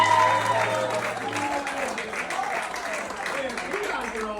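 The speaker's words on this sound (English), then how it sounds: "give one more big round of applause for me" Audience applause at a comedy show, a steady wash of clapping from a crowd that keeps on at an even level throughout, with the host talking over it.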